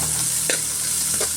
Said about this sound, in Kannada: ಮತ್ತು ಈಗ ಈರುಳ್ಳಿ ಹಾಕ್ಕೊಂಡು ಈಗ ಸ್ವಲ್ಪ ಚೆನ್ನಾಗಿ ಫ್ರೈ ಮಾಡ್ಕೊಳ್ಳೋಣ.